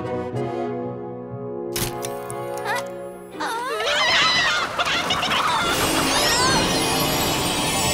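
Cartoon hens squabbling, with sharp squawks and clucks bursting out over a musical score, the flapping and cackling growing busier and louder toward the end.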